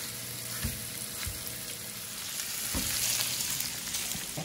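Sausage frying in a pan for a tater tot breakfast casserole, a steady broadband sizzle with a few soft knocks from the pan, close and even throughout, with no voices.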